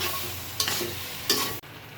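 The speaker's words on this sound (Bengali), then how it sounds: "দিয়ে দিলাম চিনি স্বাদ মতো ভালো করে নাড়াচাড়া দিয়ে মিশিয়ে নেব" Chalta (elephant apple) pickle is stirred with sugar in a hot pan, giving a steady soft sizzle broken by two scraping strokes of the spoon, close up and with no voices.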